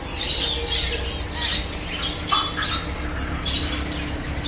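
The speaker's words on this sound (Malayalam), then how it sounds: "തത്ത ഗ്രേ പാരറ്റ്." A grey parrot squawking in a pet shop: repeated harsh, loud squawks and chirps over a steady, noisy indoor background.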